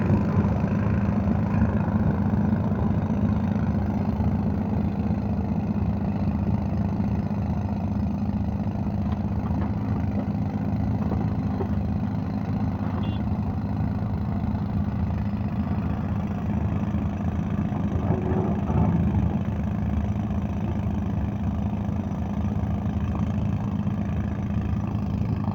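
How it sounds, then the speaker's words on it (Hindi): An excavator loading soil into a tractor trolley while tractor engines run, a steady continuous diesel rumble throughout with no talk. "और ट्रैक्टर में लोडिंग कर रहा है।"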